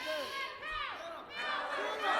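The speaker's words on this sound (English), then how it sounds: "the crowd is behind the Magnificent One" Wrestling crowd cheering and shouting for the Magnificent Malico during a match, a dense wall of many voices with rising whoops, loud and near, swelling toward the end.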